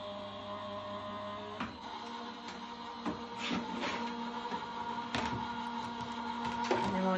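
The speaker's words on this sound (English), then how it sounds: "fold it into the card, into the folder, pop your folder open sided, the plates, and then run that through your machine." A cardmaking embossing machine cranks a poinsettia embossing folder sandwiched between plates, making a low, steady mechanical grind with a few soft clicks and knocks as it rolls through.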